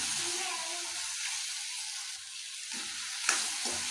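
Tomatoes fry softly in a pan over a low flame for Punjabi-style paneer butter masala, a steady close sizzle with a few scraping stirs and small clicks near the end.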